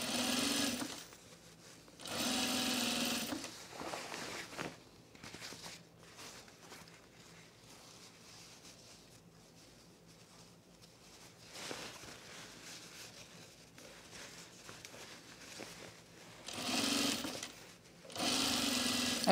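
A sewing machine runs in several short bursts while stitching a 5/8 inch pants seam, each burst lasting a second or two, with quiet fabric handling in the gaps between them.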